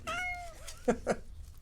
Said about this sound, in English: We got Bowie the cat checking in.